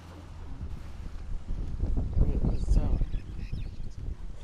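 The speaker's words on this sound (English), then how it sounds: "That was a big gust of wind that just came in." A gust of wind blows in through an open window as a low, rumbling buffet that swells and fades over a few seconds, with faint voices beneath it.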